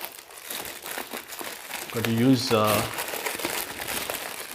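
A shipping package of plant items is torn and crinkled open by hand, its plastic and paper rustling steadily while a person speaks briefly over the middle of it.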